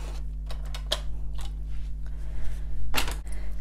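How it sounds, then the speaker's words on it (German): Scissors cut paper card for a folded craft box, giving a few crisp, close snips and clicks with quiet gaps and a low steady hum underneath. "Dann brauchen wir eine Schere"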